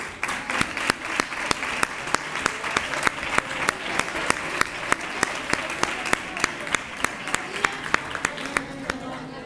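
Audience applause for raffle prize winners at a Three Kings proclamation event in Nerva, a dense steady crowd clapping throughout with a few sharper individual claps standing out, fairly close and sustained.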